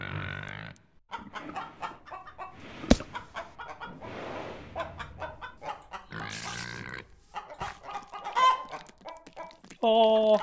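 Chickens clucking in the video game Minecraft, repeated short clucks and squawks from fowl, moderately loud and close, with other game sounds around them.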